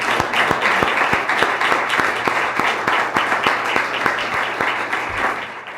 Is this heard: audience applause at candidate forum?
yes